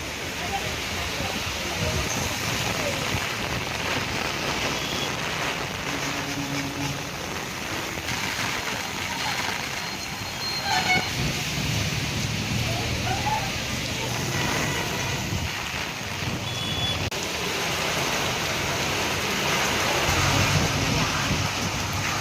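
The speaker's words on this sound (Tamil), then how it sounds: "1 மணி நேரத்திற்கும் மேலாக கனமழை கொட்டி தீர்த்தது" Heavy rain with strong wind pours over the Mannargudi area of Tiruvarur district in Tamil Nadu. The downpour is a constant broad roar, and faint voices and traffic sit underneath.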